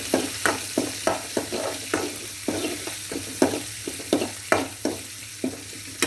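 Curry leaves and green chilies sizzling in a frying pan for mango pickle, a steady hiss under regular scraping strokes of a spoon stirring, close by and moderately loud.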